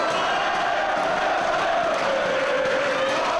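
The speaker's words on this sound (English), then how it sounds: "Listen to these fans." A wrestling arena crowd roars in a steady, loud wall of cheering and shouting, sustained across the whole moment with no breaks.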